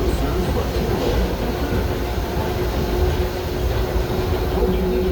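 Disneyland Railroad train rolling along its rails near New Orleans Square Station, a steady, loud rumble and low mechanical roar that carries on without pause.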